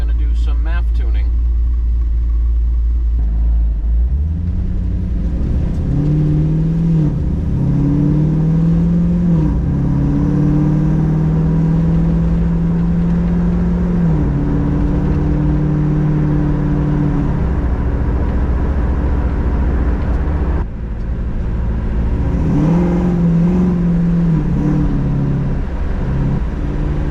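A Chevelle muscle car on a tuning drive, its engine rumbling loud and close from inside the cabin, rising and falling through repeated rev swells over a heavy low drone, with talking over it.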